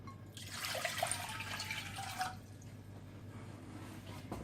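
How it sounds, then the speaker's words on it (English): A steady stream of water pours into a pot for about two seconds, a soft hissing splash, then stops, leaving quiet room tone. "We're going to take 2 cups of water"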